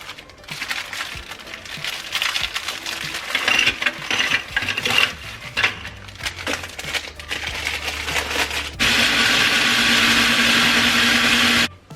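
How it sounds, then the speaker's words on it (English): A kitchen blender crushes a pack of cookies into crumbs, a loud uneven grinding and rattling with clattering pieces that ends in a steady high whirring roar of the motor spinning freely. "Now that I've blended my 1 pack of cookies"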